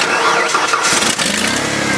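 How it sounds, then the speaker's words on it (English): An old truck engine cold-starting after sitting ice cold through winter: it cranks and fires up into a loud, steady, rough running roar that holds for about two seconds, close by. "That's a totally cold start on that motor."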